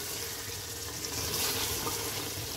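Chicken curry being bhuna-fried in a single pot, a steady broadband sizzle and hiss with faint stirring scrapes, continuous and close throughout with no talk.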